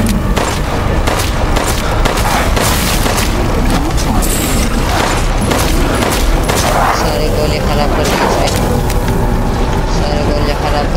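Dense, continuous gunfire and explosions from the video game Resident Evil Village, loud and chaotic throughout, with a voice speaking over the shooting.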